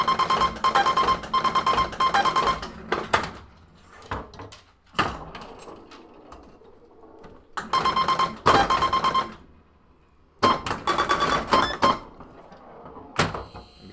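Electronic soundboard of a Zaccaria Nautilus electromechanical pinball machine: loud bursts of buzzy, tonal electronic effects in repeated blocks of about two seconds, separated by quieter gaps of mechanical clatter and knocks.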